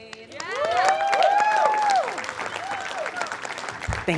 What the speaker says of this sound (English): We're going to give a round of applause for Zaid.